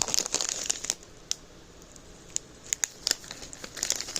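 Crinkly resealable gusseted Mylar bags are handled close up, with sharp crackling rustles in quick clusters separated by brief quiet gaps, fairly faint overall.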